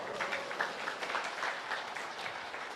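An audience at a talk claps steadily for a few seconds, a dense wash of applause at moderate distance with no one speaking.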